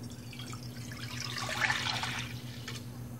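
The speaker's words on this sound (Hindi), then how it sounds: "मालाबिया बनाने के लिए सबसे पहले हम दूध डालेंगे," Milk pours into a pot for a muhallebi pudding, a soft steady liquid trickle with a brief fuller splash in the middle, close and quiet.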